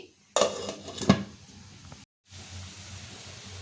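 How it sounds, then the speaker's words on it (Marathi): A metal lid clanks onto a pan holding three glasses of water set to boil, two sharp close clatters followed by a short pause and a faint hiss. "इथे पॅनमध्ये मी 3 ग्लास पाणी ठेवलं आहे। ते पाणी उकळत ठेवायचे आपल्याला, त्यावर मी झाकण ठेवतेय।"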